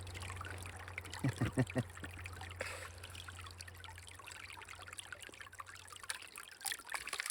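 Water trickles and gurgles steadily through a gold sluice outdoors in Oregon in winter, a continuous light splashing flow with a few brief knocks early on.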